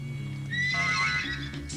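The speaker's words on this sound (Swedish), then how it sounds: "Sätt igång alla mina hästar!" A horse neighs in a loud, drawn-out whinny close by, with faint hoof clip-clops underneath.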